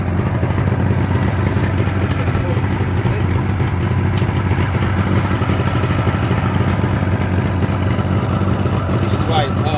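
A Suzuki GT750 motorcycle engine ticks over at a steady idle while its carburetors are balanced, giving a continuous, even low rumble that stays constant throughout, with a voice talking over it.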